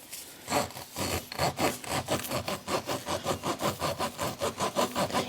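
Repeated rhythmic rasping strokes from a tool cleaning out a tire puncture hole, a steady back-and-forth scraping that speeds into a regular pulse, close and loud.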